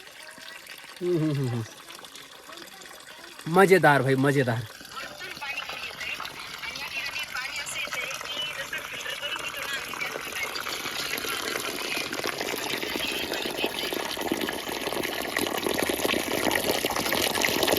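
Spring water pours steadily from a pipe set into a hillside near Mandav, a continuous splashing rush that grows slightly louder. Brief talk comes first, and voices are heard near the start.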